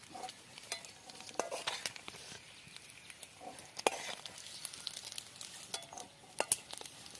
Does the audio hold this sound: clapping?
no